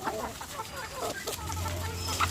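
Chickens cluck softly nearby in short, scattered calls over a low background hum while feeding and chasing ducks away.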